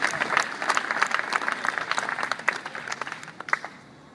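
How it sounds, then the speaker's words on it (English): Church congregation applause fills a worship gathering, a scattered mass of hand claps with sharper individual strikes standing out, moderately close and fading near the end. "Give the Lord a clap of it."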